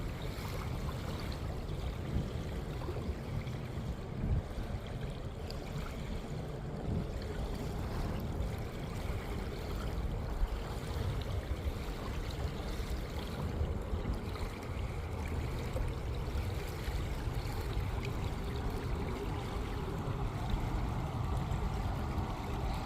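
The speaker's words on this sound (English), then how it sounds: "Got a little bit of a breeze blowing in some small waves now." Small three-inch waves stirred by a light breeze lap steadily at a lake shore, a constant low wash with a faint traffic rumble from a highway bridge behind it.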